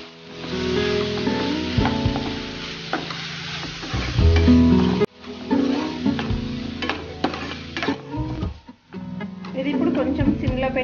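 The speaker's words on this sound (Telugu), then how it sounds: "చూడండి ఇక్కడ టమాటా ఫ్రై అవుతుంది" Chopped tomatoes frying in a pan for tomato rice, a steady sizzle broken by the clatter of a spoon stirring and scraping against the pan, close and fairly loud, with a short pause midway.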